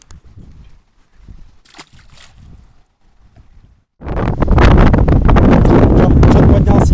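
Strong wind on a lake during a fishing outing roars across the microphone in a sudden loud, continuous gusting rush that takes over after a few seconds of quieter talking.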